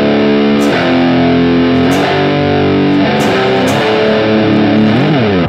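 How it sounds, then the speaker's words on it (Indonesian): Distorted electric offset guitar on its bridge pickup, loud bright chords struck and let ring, with a few sharp pick attacks and a bend near the end, close and without talk. "Ini lagi pakai yang bridge nih sekarang."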